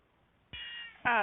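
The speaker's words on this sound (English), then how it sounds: "Lily's going to chime in here. So Lily is Keisha's cat" A house cat meows twice in quick succession, close and clear, the second call louder and higher than the first, against near silence.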